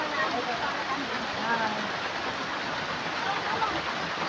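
Rain falls in a steady, dense patter on surfaces, a constant wash at moderate loudness, with faint voices under it at times.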